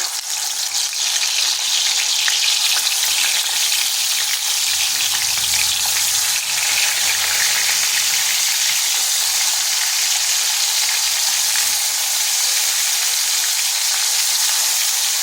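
Rohu fish pieces rubbed with salt and turmeric fry in hot oil in a wok, giving a loud, steady, dense sizzle that runs unbroken throughout with no talking.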